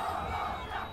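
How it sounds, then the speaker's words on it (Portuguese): Colombian football fans roar as a crowd in Pro Evolution Soccer 2018 during a World Cup match in Russia, a steady, dense wall of cheering and chanting that swells slightly and holds without pause. "Olha a torcida da Colômbia crescendo aqui. Fazendo barulho na nossa orelha."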